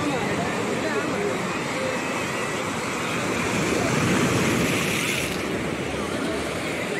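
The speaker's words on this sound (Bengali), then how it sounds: "জলটা ছুঁয়ে কিছু বলতে চাইছে, এরমভাবে গজরাচ্ছে" Sea waves roar at Digha beach in a continuous, loud wash of surf with wind buffeting the microphone and no break throughout.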